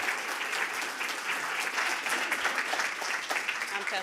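Audience applause for a panel of speakers at a women-in-tech talk event, a dense, steady wash of many hands clapping continuously for about four seconds with no pauses.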